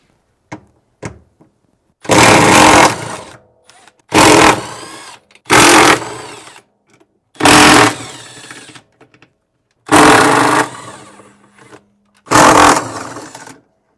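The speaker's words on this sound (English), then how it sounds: "using a 13mm socket, we'll remove the 6 mounting bolts for the clutch" A washing machine clutch's six mounting bolts being loosened with a 13 mm socket on a Samsung top-loader, heard as six loud, close bursts of rapid mechanical whirring, each a second or so long, separated by brief quiet gaps.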